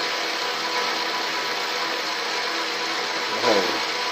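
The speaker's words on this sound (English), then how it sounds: "Stick it in the 3-jaw and centre drilled." A 3-jaw lathe chuck spins a workpiece during centre drilling, a steady broadband machining whir held close and even, with a short low clunk near the end.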